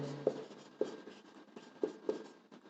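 Chalk or marker taps and scratches on a board during a class 10 arithmetic progression maths lesson: four or five sharp, close strokes at an uneven pace with short scratchy runs between them.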